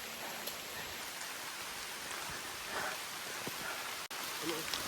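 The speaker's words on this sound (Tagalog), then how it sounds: "Umuulan na." Steady rain falls in a Palawan forest, a close, even hiss of drops pattering on surfaces with an occasional sharper tap, continuing throughout.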